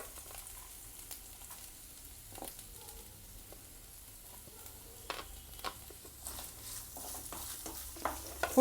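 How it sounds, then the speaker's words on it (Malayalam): Chopped onions sauté over a full flame for chilli chicken gravy, with a faint, low sizzle under scattered spatula scrapes and stirring clicks that grow busier toward the end. "ഫുൾ ഫ്ലെയിമിൽ വെച്ചിട്ട് തന്നെ നന്നായിട്ടൊന്ന് വഴറ്റിയെടുക്കണം."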